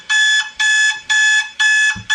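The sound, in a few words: alarm clock ringing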